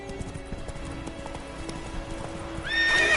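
Roach, a horse in The Witcher 3: Wild Hunt, trots with crisp, rhythmic hoof clip-clops close by, ending in a loud neigh.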